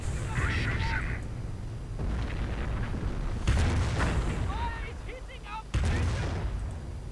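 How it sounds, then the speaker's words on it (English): Nebelwerfer rocket artillery striking in a World War II video game: several heavy explosions land in bursts, with rumbling impacts and crackling debris under ongoing game noise and chatter. "Airborne taking direct hits from the Nebelwerfers."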